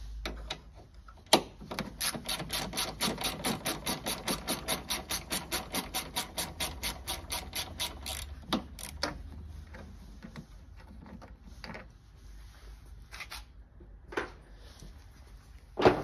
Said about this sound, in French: On va enlever un écrou de 10 juste ici sur l'optique.